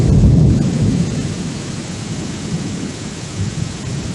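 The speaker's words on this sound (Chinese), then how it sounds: "或者生成雷雨天的音效。" Thunderstorm sound effect from Meta AudioBox AI: a loud, deep rumble of thunder at the start fades into steady, heavy rain pattering on surfaces, with no voices present.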